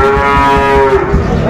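A Sahiwal cow on a farm in Chattogram gives a loud, close, drawn-out moo with a rich harmonic tone lasting over a second, heard alone.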